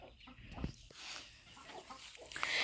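Backyard laying hens with food and water cluck in short, soft bursts amid faint garden ambience, quiet and somewhat distant, with no one speaking.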